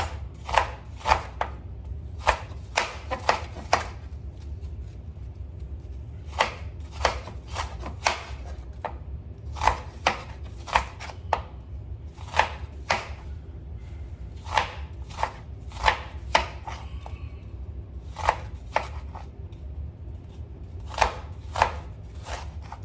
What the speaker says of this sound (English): Turn the onion as you slice to give you nice beautiful chunks.